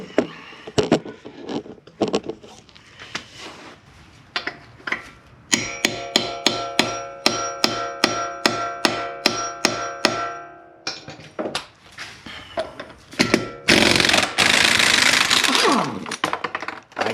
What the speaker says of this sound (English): I took a 21 millimeter and hammered it in.